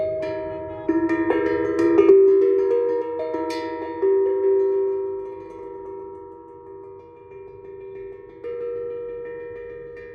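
Metal bowls struck a few times in succession, each hit ringing out with a long, clear sustained tone that slowly fades; no talking.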